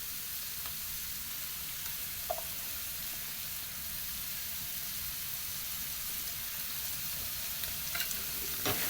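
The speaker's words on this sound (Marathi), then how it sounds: "हे पण छान असं फ्राय करून घेऊ" Chillies and coriander frying for dhaba-style egg bhurji, a steady broadband sizzle running throughout with faint stirring clicks, close and continuous at moderate level.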